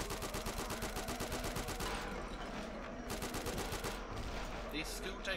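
Rapid automatic gunfire in Return to Castle Wolfenstein, a loud steady stream of evenly spaced shots for about two seconds, then scattered bursts amid game noise.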